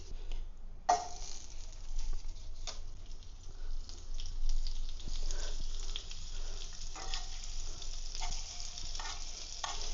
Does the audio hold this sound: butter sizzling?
yes